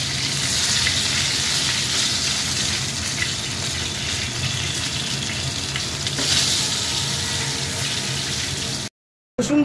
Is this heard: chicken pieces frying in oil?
yes